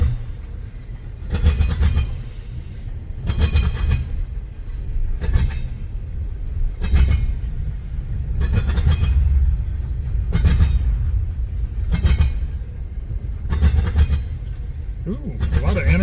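CSX freight trains passing each other east of North Baltimore, Ohio, including many intermodal tank cars: a steady, loud rumble with repeated bursts of wheel clatter at regular intervals, with voice heard over it.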